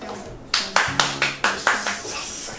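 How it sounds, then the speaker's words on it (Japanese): A handful of sharp, close handclaps in an irregular quick rhythm, each ringing briefly, over faint background sound. "拍手最後入ってました"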